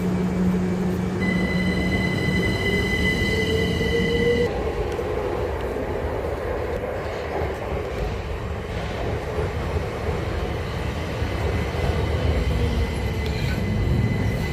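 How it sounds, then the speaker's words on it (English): A train pulling out of Chichester station bound for Brighton, with a steady rumble of wheels on rail and a sustained high whine early on, continuous and fairly loud with no talk. "There goes my train onwards to Brighton."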